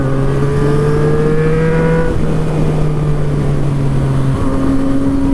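A Yamaha FZ-09 motorcycle with an aftermarket exhaust runs steadily and loudly nearby, its engine note holding a sustained drone that shifts pitch slightly as revs change, with no talking.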